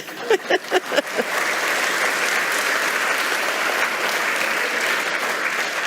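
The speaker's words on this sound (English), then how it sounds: "Round of applause." An audience applauds Robert, a few separate claps at the start quickly swelling into steady, full applause from a room that holds at a constant level throughout.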